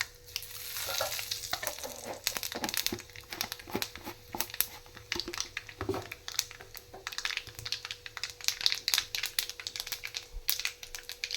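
Mustard seeds and cumin fry in an old pan as a tempering for greens. A close, crackling sizzle carries dense popping and spattering, faint overall with no voices.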